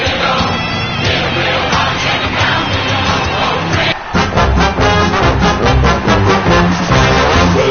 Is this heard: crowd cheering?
yes